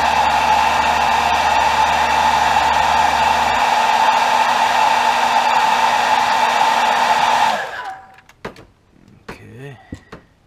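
A heat gun blows steadily and loudly while heat-setting paint on a custom bluegill crankbait lure, a constant airy roar that cuts off near the end, leaving a few faint clicks and handling noises.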